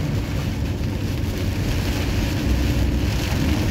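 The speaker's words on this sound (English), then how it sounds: "I just said it's raining" Heavy rain pours down on a car driving through St. Louis, Missouri, a dense, steady wash of noise that fills the whole moment without any voices.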